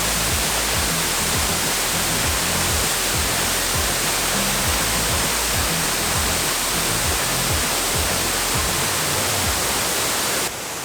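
Achankallu Falls in Kasaragod, with water pouring down at somewhat reduced force, gives a loud, steady, close roar that fills the whole span and drops away abruptly just before the end.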